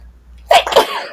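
A person sneezes during a live jewelry auction broadcast, one sharp close burst followed quickly by a second, with no talk over it.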